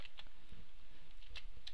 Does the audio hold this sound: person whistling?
no